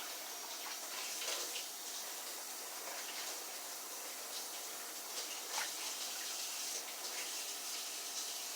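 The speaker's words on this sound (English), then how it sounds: "And I'm going to give my brisket a quick rinse." Tap water runs steadily into a kitchen sink, rinsing a raw beef brisket, a continuous soft splashing stream with small shifts as the meat moves under the flow.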